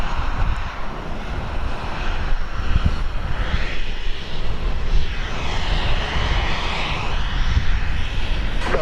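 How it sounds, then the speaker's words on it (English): A Southwest flight bound for Sacramento takes off at Dallas Love Field at night. The jet engines give a loud, sustained roar that swells and shifts as the plane climbs away, with no voices. "So here goes the flight to Sacramento that we saw taxiing just a short time ago."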